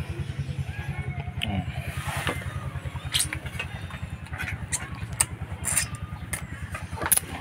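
A motorcycle engine putters in a steady, close, pulsing rhythm on a road, with scattered clicks and knocks over the top.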